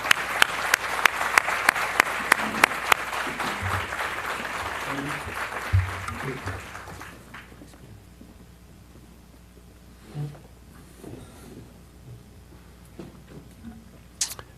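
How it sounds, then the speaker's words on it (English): Applause for speakers and a moderator at a symposium, a crowd clapping steadily for about seven seconds before dying away into room murmur and faint talk. "Let's give a round of applause to our speakers and moderator"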